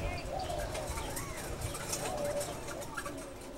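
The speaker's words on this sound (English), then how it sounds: "We can hear the different bird calls from the aviary even before we get there." Mixed bird calls, including dove-like coos and chirps, fill a walk-in desert museum aviary housing nearly 40 native species, steady and moderately near over constant background noise with possible voices.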